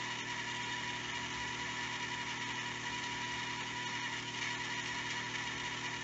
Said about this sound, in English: So let's just go ahead and grind that off real quick.